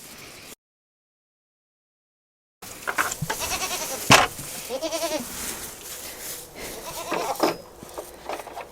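Goat bleating inside its house and enclosure, unsettled after a door was changed; several nearby, wavering bleats come in separate bursts after a brief silent gap, with some background rustle.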